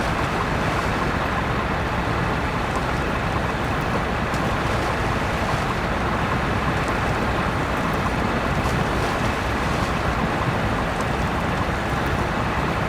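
A wheel loader ploughs through deep water in the SnowRunner game, giving a steady, dense rush of churning water and engine wash that holds at an even level throughout, with no talking.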